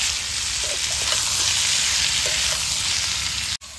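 Amla pieces fry in hot mustard oil with bay leaves, a dried red chilli and panch phoron, giving a steady, close, dense sizzle that carries on evenly before cutting off briefly near the end.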